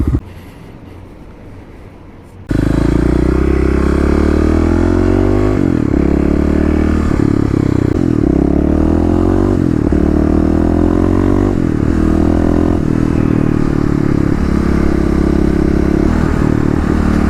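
A Kawasaki KLX351 EFI dirt bike, a 2018 model, revs hard after a short quieter stretch, its engine rising and falling through repeated loud throttle sweeps and gear pulls, close up and continuous.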